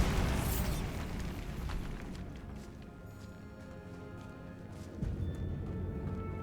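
A Bombarda spell blast in Hogwarts Legacy bursts loudly at the start and leaves a rumbling, crackling tail that fades. A second, smaller thump follows near the end.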